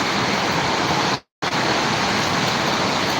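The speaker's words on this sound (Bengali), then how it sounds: "প্রচণ্ড বাতাস" Strong wind roars at Jirani Bazar during a rainstorm with lightning, a loud, steady, close rush that cuts out briefly to silence before surging back.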